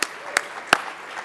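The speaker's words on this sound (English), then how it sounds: "give yourselves a big clap for being here" An audience at the official opening of Intersekt 2021 claps briefly, a few sharp distinct claps standing out over a soft, steady bed of crowd applause.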